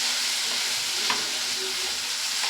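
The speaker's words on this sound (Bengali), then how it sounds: "সব উপকরণগুলোকে ভালো করে একসঙ্গে কষিয়ে নেব।" Spices with turmeric, chilli and cumin powder sautéing in a pan, giving a loud, even hissing sizzle with an occasional faint scrape of the spatula, close and without pause.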